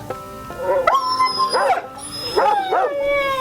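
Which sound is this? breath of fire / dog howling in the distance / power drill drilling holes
dog howling in the distance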